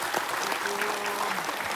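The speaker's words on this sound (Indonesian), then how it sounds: "tepuk tangan dulu" A studio audience at a televised Islamic sermon program claps in a steady, moderately loud wave of many hands, with faint voices and a brief tone underneath.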